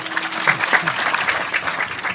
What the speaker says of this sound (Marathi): टाळी वाजवत जा